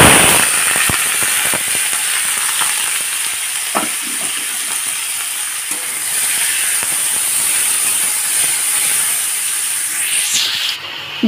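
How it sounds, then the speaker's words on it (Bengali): Onions frying in hot oil tempered with black cumin (kalonji) for a piyaj posto dish: a loud, steady, close sizzle with scattered crackles and a few scraping clicks of stirring, no voices. "এখন আমি পেঁয়াজগুলোকে দিয়ে দেবো ভাজার জন্য।"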